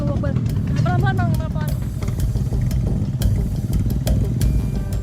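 A motorcycle taxi climbs a steep, slippery, rocky track in an Indonesian village, its mid-pitched engine running steadily beneath nearly constant talk, with occasional clattering knocks.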